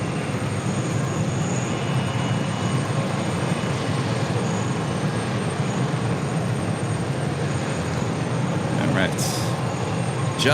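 An Emirates Airbus A380 jet close by at JFK airport, a constant dense engine rumble and hiss filling the clip from start to end, with a brief higher tone near the finish.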